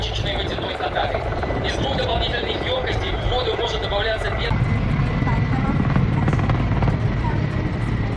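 A Kamov Ka-32 Russian twin-rotor firefighting helicopter roars with steady rotor and turbine noise, loud and sustained, swelling slightly toward the end, while a voice talks over it.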